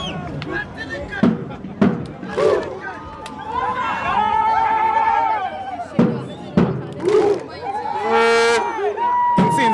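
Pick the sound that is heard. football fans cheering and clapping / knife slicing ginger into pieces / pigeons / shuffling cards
football fans cheering and clapping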